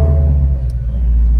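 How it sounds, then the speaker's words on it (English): A 2016 Shelby GT350 engine idles with a deep, steady low rumble that stays loud and close throughout, without any distinct revving. "let's go ahead and fire this puppy up."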